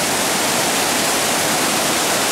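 Flash-flooded river rushing and raging, a loud, constant broadband roar of fast water close by, unbroken for the whole stretch with no voices.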